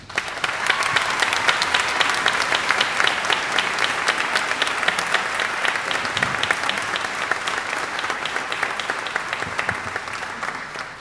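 Sustained, loud audience applause at a community celebration honoring Martin Luther King Jr., a dense, even wash of many hands clapping that continues steadily for about eleven seconds.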